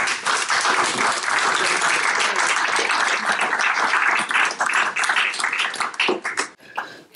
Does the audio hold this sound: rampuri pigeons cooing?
no